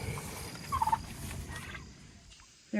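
A short burst of turkey gobbling rises over a steady low rumble of outdoor background noise, fairly close, then the scene quiets.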